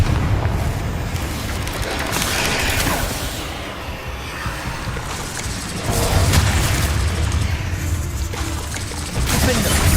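A Confringo fire spell blasts in the Hogwarts Legacy video game, a loud continuous roar of booming explosions with fresh heavy bursts swelling partway through and again near the end.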